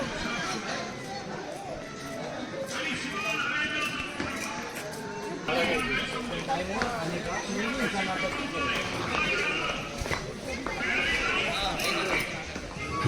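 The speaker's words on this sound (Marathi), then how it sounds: "किती सारे घोडे आहेत यार" Horses walk through a busy market street at Matheran hill station, hooves clip-clopping steadily beneath constant crowd chatter and talk, with an occasional higher whinny-like call.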